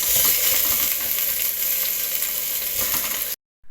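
Tomatoes dropped into a hot frying pan, giving a loud, continuous sizzle with faint stirring clicks that stops abruptly near the end.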